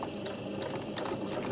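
A sewing machine runs a short reverse stitch at the start of a cushion cover seam, humming steadily and close with a fast, even mechanical pulse.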